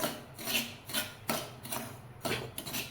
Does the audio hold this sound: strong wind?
no